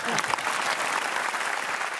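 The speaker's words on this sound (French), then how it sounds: "Je veux vous remercier de tous vos applaudissements." Sustained applause from a live audience, steady and dense across the whole moment, with no break in the clapping.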